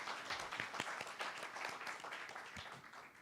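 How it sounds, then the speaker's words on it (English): An audience gives a round of applause at a lecture-style course session, a dense, fairly faint patter of many hands clapping steadily for a few seconds. "Can we have a round of applause for Julien for being 16 and being willing to be on time?"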